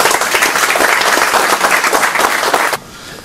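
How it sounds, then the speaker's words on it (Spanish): Audience applause at a book presentation: dense, loud, sustained clapping from a crowd that cuts off abruptly near the end, leaving quiet room tone. "un aplauso también."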